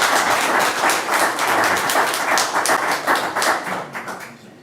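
An audience at a county Board of Supervisors public meeting claps hands together in a steady, dense patter that holds for several seconds, then thins slightly toward the end.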